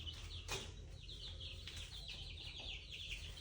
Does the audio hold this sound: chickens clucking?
yes